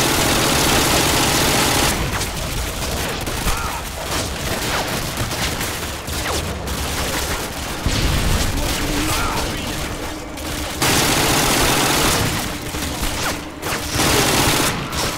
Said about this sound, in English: That's what I like about the AUG, it's so fast firing